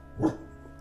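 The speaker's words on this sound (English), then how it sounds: "Sorry if you hear my dog in the background. She's going to be barking for a little bit." A pet dog gives a single short bark or yip, close by and fairly quiet, then the room settles into a low hum.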